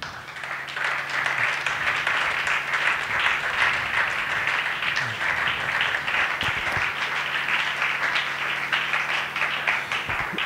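A church congregation at a Sunday service applauds and cheers to praise the Lord, steady dense clapping from a large crowd that continues for several seconds without a break, with no speaking voice on top.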